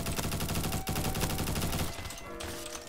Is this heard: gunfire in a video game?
yes